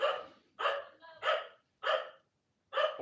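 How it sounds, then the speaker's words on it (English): A dog barks at someone at the door, giving five or six sharp barks in uneven bursts with short pauses, heard at a moderate distance indoors. "Dog's going absolutely mental. Someone's at the door."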